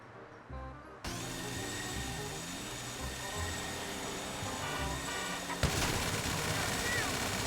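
An airplane engine in GTA 5 Online, a steady loud droning hum that starts abruptly and holds throughout, with a sharp knock partway through amid other game noise and a voice talking over it.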